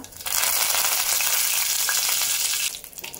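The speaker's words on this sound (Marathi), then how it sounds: "मोहरी छान तळतळायला लागली आहे" Mustard seeds, cumin and curry leaves crackle and sizzle in hot oil, a loud, dense spitting fry that carries steadily for nearly three seconds before dropping off abruptly.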